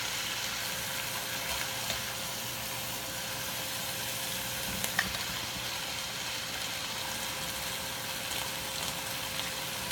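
Seasoned chicken searing in a hot pan gives a steady, even sizzle and crackle with occasional faint pops, moderately quiet and continuous with no one talking.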